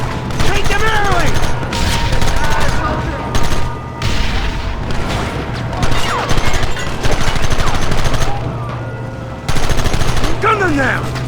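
Gunfire in Red Dead Redemption, loud and near, with rapid overlapping shots and bursts in an irregular rhythm throughout, shouting voices mixed in, and a low hum underneath.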